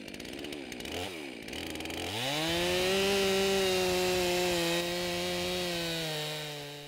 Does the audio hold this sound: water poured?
no